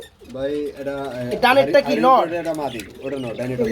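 Black Mundian pigeons in a pen give low, rolling coos that repeat through the moment, mixed with close human voices talking over them.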